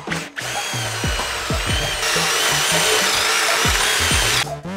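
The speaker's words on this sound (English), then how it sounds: "we just drilled our holes all the way through to meet the ones we started from the bottom side" Power drill boring through a thick cedar beam for a timber-framed pergola, a loud steady whine running nearly five seconds with repeated pitch dips as the bit bogs and recovers, close and alone.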